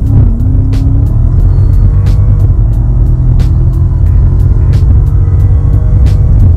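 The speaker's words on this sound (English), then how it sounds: "footage of it clobbering the freeway, supercharger whine and all" BMW E60 M5 with a supercharger driving hard on a freeway, a loud constant engine roar and road rumble with a rising whine early on and rhythmic ticking from passing road joints.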